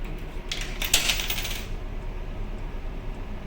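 Thai baht coins, including a five-baht piece, drop into an automatic pen vending machine that accepts several coin sizes, making a bright metallic clatter lasting about a second over a steady background hum.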